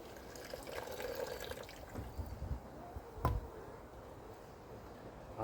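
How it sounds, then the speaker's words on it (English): Hot water poured from a flask into a container of chicken pellets to make liquid fertiliser, a soft trickling and splashing pour that swells and fades over several seconds, fairly quiet and close. "you just want to pour the rest in there."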